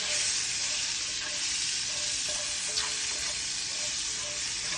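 Asparagus stirred around in a frying pan over medium heat, giving a steady, close sizzle with faint scraping of the stirring throughout and no talking.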